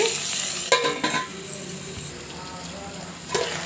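Okra and tomato pieces sizzling in a pan for an Andhra-style okra pulusu, a steady frying hiss with occasional clinks and scrapes of a spoon stirring against the pan.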